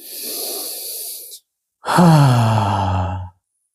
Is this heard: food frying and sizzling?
no